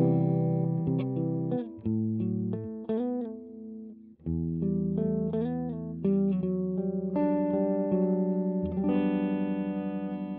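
A clean-toned Ibanez Q45 electric guitar in foam green plays a melodic run of picked notes and held chords, close and bright with a light effects sheen, alone without any voice.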